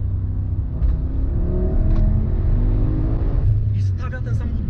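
A 1040 hp Audi RS6 R with quattro drive accelerates hard, its engine note rising in pitch under a deep rumble, heard from inside the car while people talk over it.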